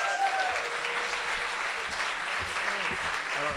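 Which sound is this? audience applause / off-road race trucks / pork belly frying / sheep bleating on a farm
audience applause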